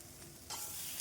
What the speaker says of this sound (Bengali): এবার আস্তে আস্তে নাড়াচাড়া করব আর একটু লালচে কালার করে ভেজে নেব।